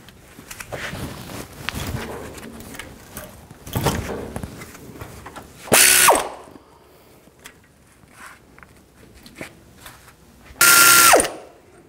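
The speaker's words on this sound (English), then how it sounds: "Take these two bolts out for the caliper, use a 18 millimeter socket." A hand ratchet with an 18 mm socket loosens the brake caliper bolts on a 2007-14 GMC Sierra 3500HD, giving two sharp, loud bursts of rapid clicking a few seconds apart amid quieter shop handling noises.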